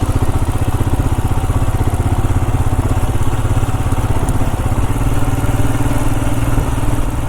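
A motorcycle engine runs close by with a loud, rapid, steady chugging pulse, unbroken and without speech, as if idling or riding slowly on a village road.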